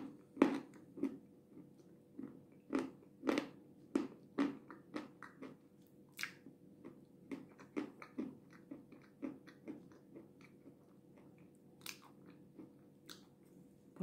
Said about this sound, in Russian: А пока давайте просто похрустим